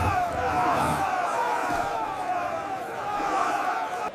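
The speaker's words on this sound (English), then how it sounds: "the crowd, stirred up by the leaders, shouted for Jesus to be crucified" A large crowd in an animated crucifixion scene shouts together in a dense, sustained roar of voices that fills the whole stretch at a steady, loud level.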